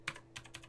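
A few quick keystrokes on a computer keyboard enter a number into a spreadsheet, close and quiet, with no speech.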